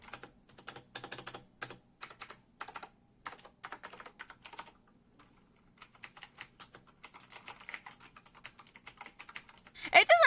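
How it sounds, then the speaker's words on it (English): Rapid clicky mechanical keyboard typing on green switches, bursts of sharp keystrokes with brief pauses, close to the mic, ending in a louder clatter. "this is the one I used to have. Green switch sound test."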